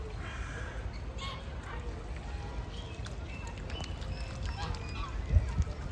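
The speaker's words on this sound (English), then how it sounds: "This duck is beautiful." Waterfowl at the duck village in Belgrade honk and call intermittently in the middle distance over a busy outdoor background, with faint talk nearby.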